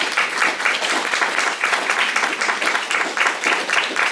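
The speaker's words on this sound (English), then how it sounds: "Let's give them a round of applause." An audience at a community tips-and-tricks event gives panelists a full round of applause: thick, continuous clapping from a sizeable crowd, loud and even throughout with no voices over it.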